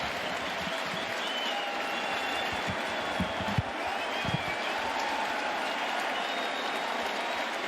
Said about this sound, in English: he's going to get a nice hand from the stadium crowd.